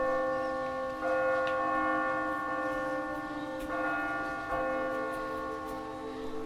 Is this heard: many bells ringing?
yes